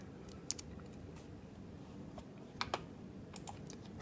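Soft keystrokes on a computer keyboard tap out a short entry, a handful of light scattered clicks with a couple of sharper presses over a quiet room hum.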